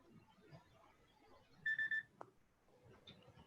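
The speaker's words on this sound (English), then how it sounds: "That's my phone telling me it's time to take my medicine." A phone reminder alarm for taking medicine sounds a short burst of three or four clear electronic beeps, plus a single sharp blip, against faint room noise and quiet talk.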